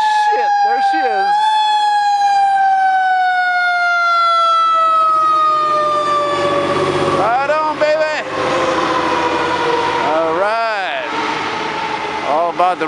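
Four Montreal fire trucks and a chief's vehicle respond to a call, their sirens wailing loud and near, with long sweeping tones and rapid yelping cycles overlapping as they pass.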